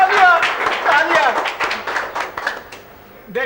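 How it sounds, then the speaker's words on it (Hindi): Audience clapping and applause during a comedic stage ceremony, a steady patter of many hands with voices talking over it throughout. "तालियां!"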